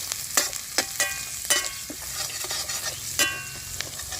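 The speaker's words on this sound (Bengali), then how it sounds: "এগুলোকে হালকা একটু ভেজে নেব" Chopped ginger and green chili frying lightly in oil with tempering spices for a singara filling, a soft sizzle broken by sharp spatula scrapes and clinks against the pan, close and without talk.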